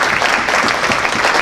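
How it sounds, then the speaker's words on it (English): A roomful of attendees applauds at the Illinois Black Chamber of Commerce networking event and reception, a steady, full round of clapping from many hands nearby, with no talk over it. "So give yourself a round of applause."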